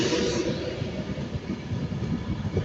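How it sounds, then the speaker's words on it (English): An Avanti West Coast Class 390 Pendolino train at Crewe station produces a deep, steady rolling rumble with rhythmic wheel noise, close and fairly loud throughout, with no talking. "This is the 1410 Avanti West Coast service to Manchester Piccadilly via Wilmslow. 390-045."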